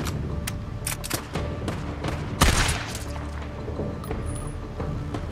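In Days Gone, scattered gunfire sounds as a series of sharp reports with one heavy, booming shot near the middle. The shots are loud against a rumbling background, and no one talks.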